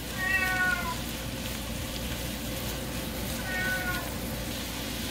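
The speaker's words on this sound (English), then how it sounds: "He's a Bengal cat." Bengal cat meowing twice in a home kitchen, a short chirpy cry at the start and another near the end, heard close over a steady background hiss like food frying.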